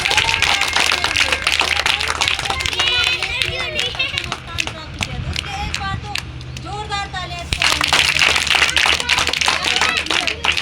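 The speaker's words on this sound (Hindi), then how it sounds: "और कक्षा 3 बहुत जोरदार तालियां" Applause for students at a school farewell party and results distribution: many hands clap in steady bursts close by, mixed with a speaking voice and crowd chatter.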